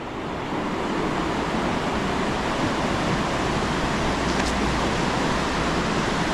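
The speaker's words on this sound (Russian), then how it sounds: "Шум горной реки." A steady, dense roar of a rushing mountain river fills the whole stretch, constant and loud with no pauses, close by among wet rocks near Užice, Serbia.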